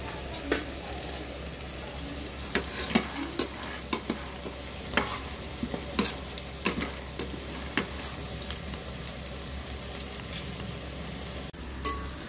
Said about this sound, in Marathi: म्हणून आपण हाय फ्लेमवर इथे फ्राय करून घेऊया